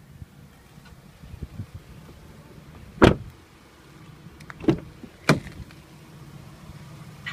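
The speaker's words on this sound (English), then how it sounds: "Press the button again and your trunk closes." A 2019 Chevrolet Equinox power liftgate closing outdoors: a few sharp clunks and latch thuds spaced seconds apart over faint low motor hum and wind, close and fairly quiet between impacts.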